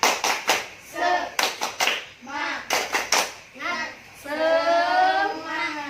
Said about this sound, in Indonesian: kita bertepuk semangat dulu bareng-bareng ya